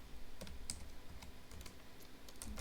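Quiet typing on a computer keyboard enters a terminal command, scattered soft key clicks close by against a faint steady room hiss.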